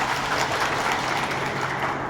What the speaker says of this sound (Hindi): तो उनके लिए भी जोरदार तालियां बजाओ।